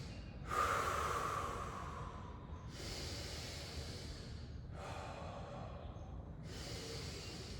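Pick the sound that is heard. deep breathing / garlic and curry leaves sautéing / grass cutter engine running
deep breathing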